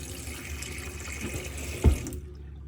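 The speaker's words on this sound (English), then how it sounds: "once you turn the water pump on, you should then have good pressure coming through the tap" A tap in a Rapido 890F motorhome runs under water-pump pressure, giving a steady close gush. One brief knock comes near the end, then the flow cuts off abruptly to silence.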